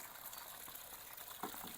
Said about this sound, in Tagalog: Punon rin nimong balde tubig.